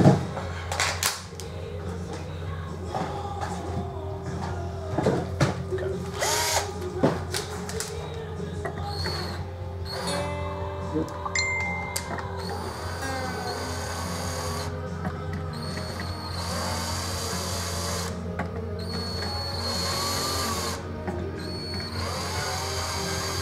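A cordless power drill whirs in repeated bursts while removing the strings from an LTD M300 electric guitar, with clicks and ratcheting between runs and a steady low hum underneath; a voice is faintly present.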